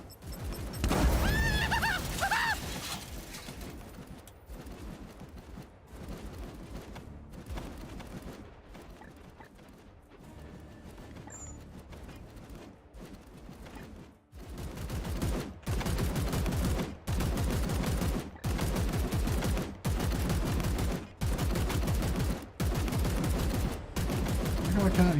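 Gunfire from the video game Chaos Gate: an early bout of loud shots gives way to a rhythmic run of heavy, evenly spaced bursts in the latter half, close and forceful, with a voice speaking briefly over the start.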